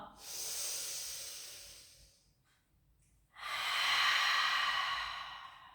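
Pilates breathing: a long, airy exhale that fades, a short pause, then a strong, steady breath with hissing air, close and alone.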